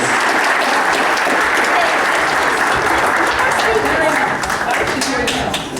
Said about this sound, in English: one round of applause, ladies and gentlemen, for giving awards to Kathy Bayless